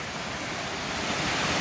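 Water flowing steadily at an Appalachian Trail water source, a continuous, fairly loud rushing and splashing heard up close with no voices.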